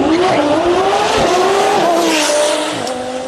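An Audi R8 makes a drag racing pass at a DCT World Cup qualifying event, its engine roaring loud and close with rising and shifting pitch that eases off near the end.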